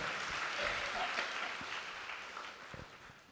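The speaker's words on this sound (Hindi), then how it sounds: "ताली बजा के परमेश्वर को।" A church congregation claps during a Sunday worship service, a faint, steady wash of applause through the whole stretch with a few sharper claps near the end.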